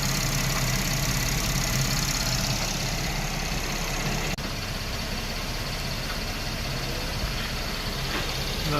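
Engine of a 2016 GMC Terrain SLT 3.5 AWD idling steadily after a thermostat replacement, a continuous close rumble with a brief click partway through and no talking.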